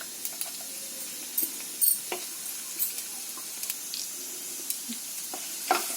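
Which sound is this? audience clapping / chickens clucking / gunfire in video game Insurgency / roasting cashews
roasting cashews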